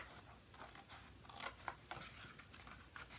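Scissors cutting up the center of a sheet of paper along a score line, a faint series of crisp, irregular snips and rustles heard up close.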